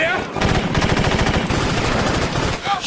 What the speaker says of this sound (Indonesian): Mobil itu meledak ditembak penyusup